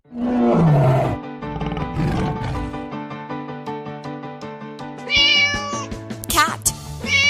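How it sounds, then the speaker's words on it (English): A tiger gives a loud, rough roar that rises and then drags downward, followed by a long harmonic growl. Near the end it breaks into sharper, wavering snarls. "Tiger."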